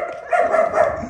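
Dog barking in an everyday setting, two or three close, moderately loud barks in quick succession over a steady background hum, with no speech.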